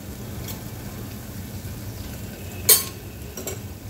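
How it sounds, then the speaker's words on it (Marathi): Spice masala with chilli, coriander powder and goda masala sautés in a pan, giving a soft, steady frying hiss with one sharp clink of a utensil and a few lighter scrapes. "याला छान परत 2 मिनिटं परतून घ्यायचं आहे"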